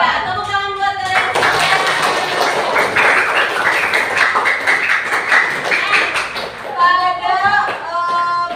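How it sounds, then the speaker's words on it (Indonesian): A school class claps together, a dense, loud burst of applause lasting several seconds, with brief talking before and after it. "tepuk tangan buat kalian"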